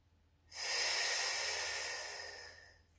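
A single long, steady inhale through the nostrils during a Pilates breathing exercise on all fours, close and airy, swelling quickly then tapering off over about two seconds.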